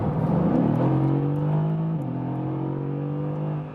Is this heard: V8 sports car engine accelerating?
yes